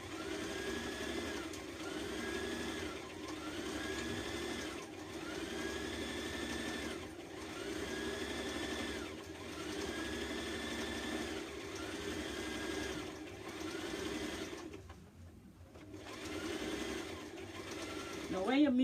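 A sewing machine runs a long basting stitch on dress fabric with a steady, rhythmic mechanical whir, pausing briefly near the end. A voice speaks faintly over it.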